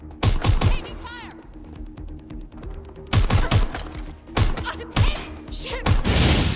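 Gunfire in Watch Dogs Legion: loud bursts of rapid automatic shots with sharp cracks and thuds, coming in several volleys separated by short lulls, close and intense.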